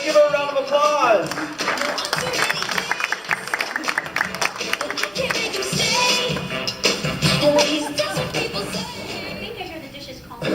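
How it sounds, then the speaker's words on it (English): Audience applause for a volunteer called up at a magician's lunchtime show: a steady wash of clapping lasting throughout, with a voice talking over it. "Let's give her a round of applause."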